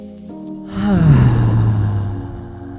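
Heard during a yoga flow class, a group breathes audibly, a rising rush of air drawn in through the nose, close and fairly loud, swelling and then trailing off slowly.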